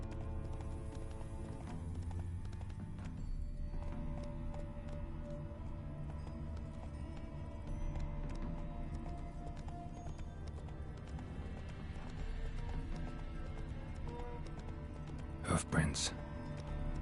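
Roach, Geralt's horse in The Witcher 3, trotting with a steady rhythmic clip-clop of hooves throughout, set among music and game ambience, with a brief sharp sound near the end; speech is present in the scene.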